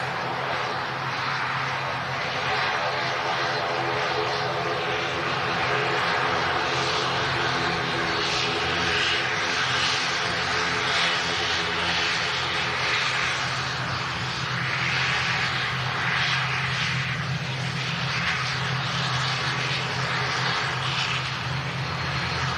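A Boeing 787 Dreamliner airliner at Manchester Airport roars steadily with a broad, sustained engine drone heard from nearby for the whole stretch.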